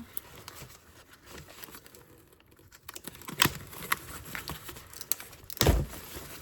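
Small scissors snip paper during a scrapbooking craft session, with a few crisp cuts standing out over soft rustling and crinkling of paper. The sounds are close and fairly quiet, with no talking.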